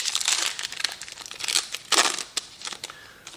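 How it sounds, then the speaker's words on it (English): A plastic sleeve crinkling as a Magic trading card from an Adventures in the Forgotten Realms set booster is slid into it: close, loud bursts of crisp crackling and rustling in irregular clusters. "let's put a sleeve around this card"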